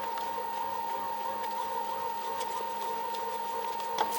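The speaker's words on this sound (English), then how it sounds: "And I'm going to mix it for another 4 minutes." A stand mixer kneads hot cross bun dough with added butter, its motor holding a steady whirring hum with a faint rhythmic knock and a small bump at the end.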